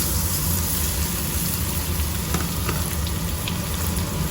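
Chopped garlic fries in hot oil in a wok, giving a steady, close hiss and sizzle with a few brief crackles, and no voices.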